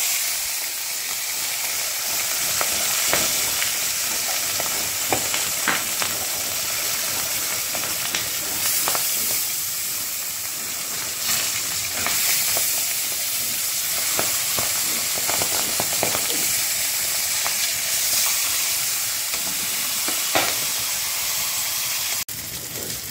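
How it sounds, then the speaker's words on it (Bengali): Fish pieces for a fish-head curry fry in hot oil in a pan, giving a dense, continuous hiss and sizzle with scattered crackles and pops for over twenty seconds, steady and close, with no voices. "আমার মাছ ভাজা হয়ে গেল।"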